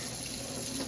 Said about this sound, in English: now I am putting the water in for it to cook